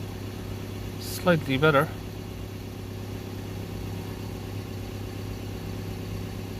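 A Ford Transit 2.2 diesel van with an underboost fault hums at a steady idle, a constant low drone running throughout while someone speaks briefly over it.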